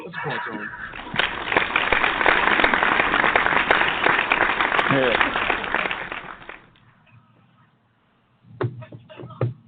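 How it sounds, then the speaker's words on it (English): A crowd breaks into dense applause for several seconds before it fades out, then voices start up again. "Let's applaud Tone."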